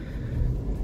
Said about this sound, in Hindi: गाड़ी हो गई अपनी स्टार्ट